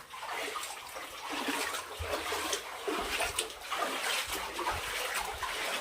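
Water flows steadily underfoot in a low, enclosed space, a continuous rushing wash with some splashing texture, moderately faint and heard alone without talk.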